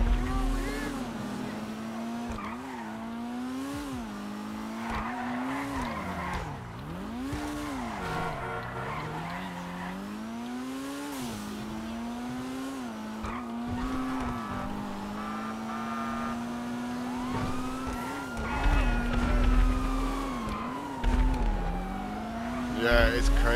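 A car's engine revs up and down steadily while driving in GTA 5 Online, a continuous motor drone rising and falling in pitch with tire squeal and game effects, under intermittent talk.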